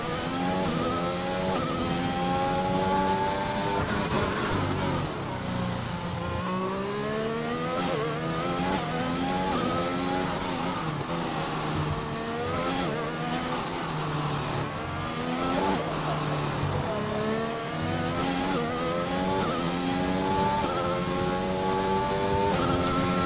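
Formula racing car in a racing video game heading into the pits on the Baku circuit, engine note rising and falling through gear changes, loud and continuous throughout with no talk.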